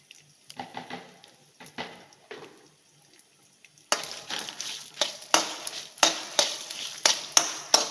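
Bitter gourd curry ingredients stirred and heated together in a pan, with a quiet stretch of scattered scraping, then a louder run of rhythmic scrapes and soft sizzling, with no talk.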